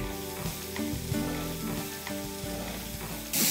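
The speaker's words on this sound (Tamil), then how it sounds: "மிளகு போட்டு கொத்தமல்லி, முருங்கைக்கீரை தவிர்த்து மீது எல்லாத்தையும் போட்டு வதக்கிடுங்க." Pepper and other ingredients for drumstick leaves soup sauté in a pan with a steady sizzle and occasional stirring knocks, moderately loud and close, with no voices.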